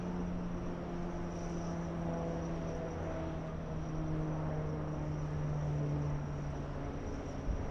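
An Airbus A330neo airliner climbing out after takeoff from LAX, a steady distant jet drone with faint sustained tones, fairly quiet and unbroken with no talking.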